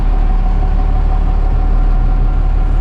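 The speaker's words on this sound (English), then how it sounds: "What do you love about this truck? Honestly, I really love the sound." Cummins diesel swapped into a 1970 Ford F250 crew cab 4x4 rumbles steadily from inside the cab, a low, even drone with a faint whine riding above it.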